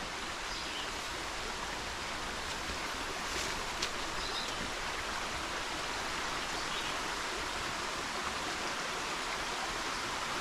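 Water flowing along a shallow stream in Hickory Run State Park, a steady, dense broadband rush that stays even and close throughout, with no voices.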